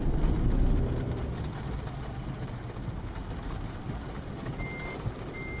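Repeated high electronic reversing beeps from a truck backing up in the rain in Euro Truck Simulator 2, over a low engine rumble and steady background noise.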